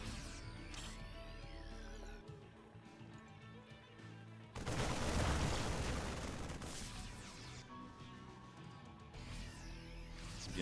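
Widow mines detonate in a StarCraft 2 match, catching friendly units in the blast: a loud, noisy burst of explosions and gunfire mid-clip, with quieter battle sounds and mechanical whirs before and after.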